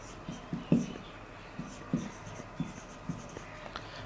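Chalk or marker strokes on a classroom board during a chemistry lecture: short scratchy taps and scrapes in an irregular rhythm, moderately close, with no talking.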